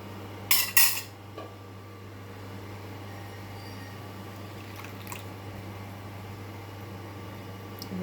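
Whole urad dal poured into a cooking pot for biulir dal, a short rattling burst of dry lentils near the start, then only a steady low hum of the kitchen.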